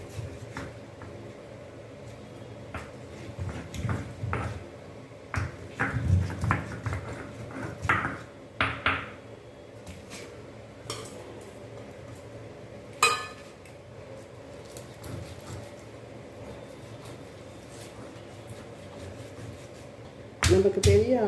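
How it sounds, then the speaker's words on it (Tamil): Fried chillies and coconut are pounded in a stone grinder for Jaffna-style sambal, a scattered run of dull knocks and clinks, with a person talking between the strikes. "இப்போது இதை அப்படியே இடிச்சுக்கிட்டே இருப்போம்"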